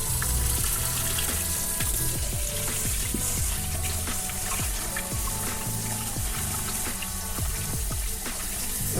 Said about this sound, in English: I'm going to wash the rice